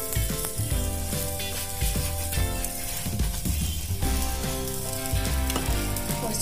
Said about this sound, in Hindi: दूसरी तरफ भी पलट के घी लगा लेंगे और फ्लेम हम मीडियम टू हाई करते रहेंगे।